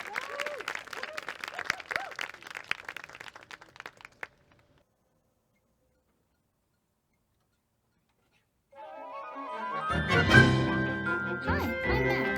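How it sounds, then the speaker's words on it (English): Audience clapping at a cartoon-music presentation bursts in near the end after a stretch of silence, swelling into a loud, busy round of applause; earlier, talk and sharp clicks come before the quiet gap. "Please give him a round of applause."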